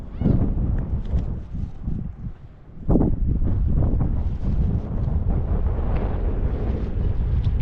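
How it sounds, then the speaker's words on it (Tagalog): Strong wind buffets the microphone in a loud, continuous low roar with gusty surges. "Mahangin masyado."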